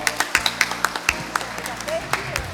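Forum audience clapping to close a session at JEJU Forum 2026; scattered, fairly sparse claps with distinct individual hits, with a voice speaking over them.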